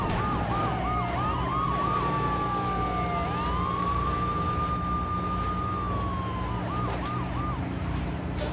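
Wailing ambulance siren in the video game GTA III, loud and close, cycling between a rapid yelp and a long rising and falling wail over a steady engine and traffic drone.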